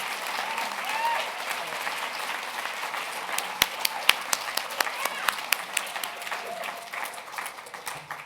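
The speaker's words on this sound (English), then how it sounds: "Get a big round of applause." Sustained audience applause at a Martin Luther King Jr. gala, a dense wash of many hands clapping with a few sharper nearby claps standing out, with faint voices underneath, the ovation easing toward the end.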